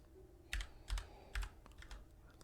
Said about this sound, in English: in the box, I'm going to go ahead and type